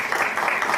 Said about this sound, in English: Let's give a round of applause to Rina.